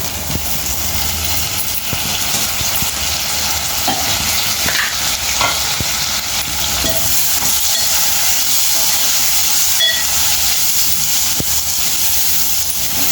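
Chopped tomatoes frying for a taro (chamagadda) curry, a loud steady sizzle and hiss from the pan that continues unbroken with faint stirring scrapes, close up and without speech.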